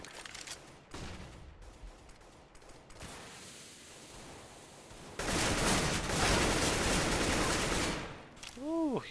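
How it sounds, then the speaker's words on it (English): Gunfire from a first-person shooter game, bursts of rapid shots with a loud sustained volley in the latter half, fairly close and punchy. "he's shooting through the smoke, you should be pre-firing that, shooting back"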